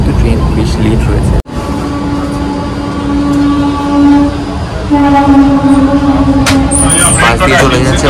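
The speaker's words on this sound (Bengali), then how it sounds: "পাশ দিয়ে চলে যাচ্ছে বন্দে ভারত।" A Vande Bharat express train rushes past close by, heard from aboard another train pulling into Bardhaman on a foggy morning: a loud rolling roar with a sustained tonal horn-like hum and a sudden dropout, with voices audible underneath.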